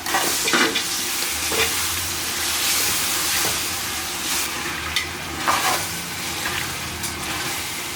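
Garlic paste sizzles and fries among onions in a pot for Ambur mutton dum biryani, a steady close crackling hiss with occasional scraping stirs and no talk.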